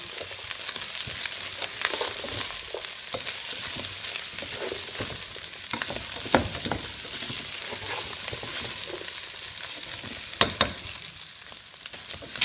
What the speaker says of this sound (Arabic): وبعد ما حمستهم وطفيتهم حمسه خفيفه